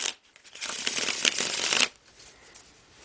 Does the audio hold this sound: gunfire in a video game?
no